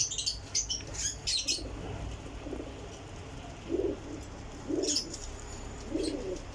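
Pure Kasuri pigeons cooing in soft, repeated low bursts at a loft, with brief higher chirps from other birds early on and no talking.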